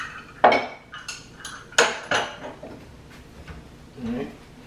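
A bowl comes out of a kitchen cabinet with a few sharp ceramic clinks and knocks, close by and spaced irregularly, followed by softer rattles as someone talks at the same time.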